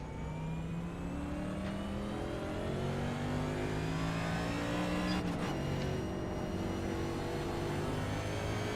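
A NASCAR race car engine in a racing video game, set at Atlanta, holding a steady high drone that climbs smoothly in pitch as it accelerates through the gears on an out lap, loud and continuous.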